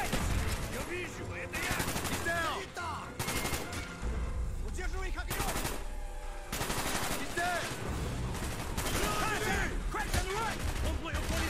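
Gunfire in the video game Call of Duty: Black Ops, loud rapid automatic bursts and blasts crowding the scene almost without pause, with in-game voices calling out between the volleys.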